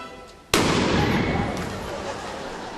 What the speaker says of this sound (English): It starts out with this huge bang that's guaranteed to wake anybody up who wasn't paying attention